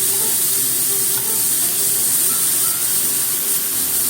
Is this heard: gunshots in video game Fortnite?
no